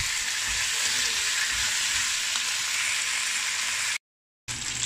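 Marinated chicken frying in a pan for a Chinese chicken dish with dry mushrooms, giving a loud, steady broadband sizzle with faint stirring knocks, broken by a half-second gap near the end before the sizzle resumes.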